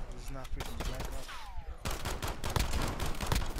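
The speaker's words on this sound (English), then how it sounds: "You gotta be kidding me, I shot him 5 times." Rapid gunfire from a Modern Warfare 2v2 match, with quick sharp shots in a steady burst; voices are heard underneath.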